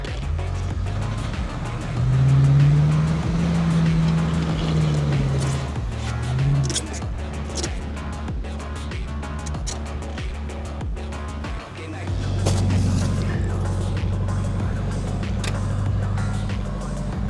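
A car pulls away on a snowy mountain road, its engine rising and holding a steady drone, easing off, then climbing again at a near, fairly loud level.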